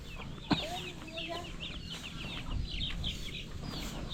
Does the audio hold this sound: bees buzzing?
no